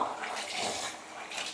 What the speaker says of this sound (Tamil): கீழ் வீட்டு பைப்பில் தண்ணி கூட வருதா